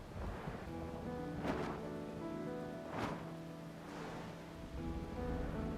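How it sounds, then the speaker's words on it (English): Constant rain falls in the video game Final Fantasy XIV: Dawntrail, a soft, steady patter with a few brief swells, quiet and set against faint sustained musical tones. "Plus the constant rain is a little depressing too."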